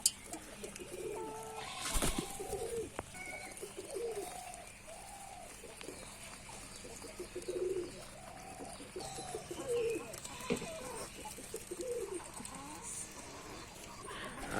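Pigeons feeding coo in soft, intermittent throaty bursts, fairly faint against a quiet room, with a sharp knock or clatter early on and scattered small noises between the calls.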